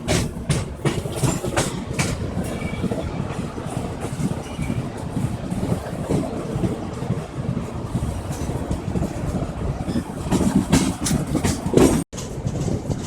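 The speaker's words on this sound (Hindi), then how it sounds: "हमारी ट्रेन उज्जैन से निकल चुकी है" A passenger express train runs steadily along the rails after leaving Ujjain, with a constant rumble and rhythmic clatter, heard from on board, with a brief dropout near the end.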